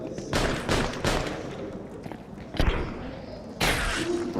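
Pistol fire in a Counter-Strike match at IEM Rio 2024: several sharp, punchy shots come in quick irregular bursts over a busy background of game noise and footsteps.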